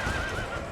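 Horses neigh in an Empire: Total War battle, a single brief whinny rising and wavering at moderate volume over a soft background of hoof clatter, with no voices.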